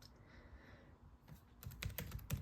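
Soft, close keystrokes tap out a password on a 2017 MacBook Air keyboard, a few quiet presses followed by a quicker burst of clicks.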